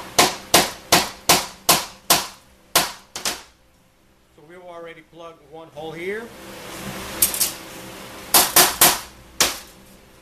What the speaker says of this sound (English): just tap it with your hammer